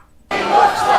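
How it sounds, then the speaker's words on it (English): A large, loud crowd of May Day labor demonstrators bursts into cheering and shouting after a near-silent moment, a dense sustained roar of many voices close by. "Large crowds of demonstrators got loud and gathered together this May 1st"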